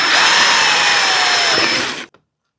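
A power tool spins loudly and steadily for about two seconds, tightening a nut on an aftermarket arm rest fitted to a Massey Ferguson GC1723 compact tractor, then stops abruptly.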